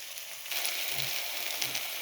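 Garlic fries in a pan for a Bengali dish of quail eggs with potatoes. A steady close hiss and crackle of sizzling oil continues throughout, with a few soft stirring thumps and no talking.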